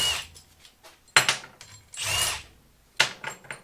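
Tools clatter and ratchet as half-inch rocker arm bolts come out of a small-block Ford 5.0 cylinder head in a workshop, with sharp metallic clicks and bursts of wrenching separated by short pauses, close and moderately loud.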